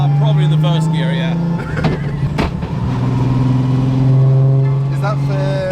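Car engine revving in first gear, a close, rising then falling engine note that carries on steadily under people talking loudly over it.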